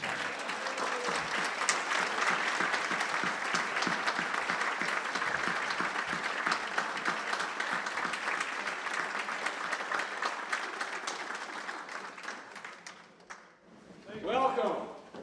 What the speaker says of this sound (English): let's give them a rousing applause for President Grant and President Lincoln